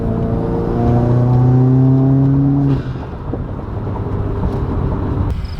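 A loud, rumbling Subaru WRX aftermarket exhaust revs up with rising pitch outdoors, then drops off into a rough idle with wind-like noise.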